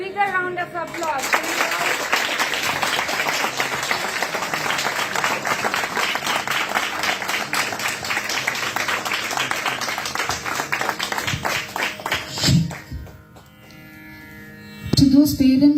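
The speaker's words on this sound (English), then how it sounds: "I think they deserve a bigger round of applause." Audience applause at an Indian music and arts academy stage event, sustained dense clapping for about twelve seconds before fading, then a brief burst returns near the end.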